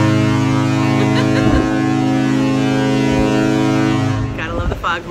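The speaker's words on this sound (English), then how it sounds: "Gotta love the foghorn." A ship's foghorn sounds in thick fog near the Alaskan coast, a loud, steady, deep blast held for about four seconds before it cuts off, with wind buffeting the microphone.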